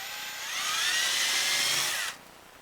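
A power drill bores into a PVC bow handle with a loud, steady high whine that holds for about two seconds, then cuts off abruptly, leaving faint room noise.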